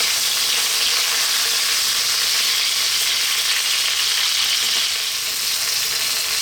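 Chicken breast fries in a pan with a loud, steady, close sizzle that crackles evenly throughout, with no one speaking.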